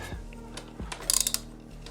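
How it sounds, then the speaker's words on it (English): A ratchet wrench works a 12mm bolt while crash bars are fitted to a Honda Africa Twin motorcycle, giving a quick burst of close, rapid clicks after a couple of dull knocks, with no talking. "I'm gonna keep pulling the bolt on the other side. By the way, this is a 12mm."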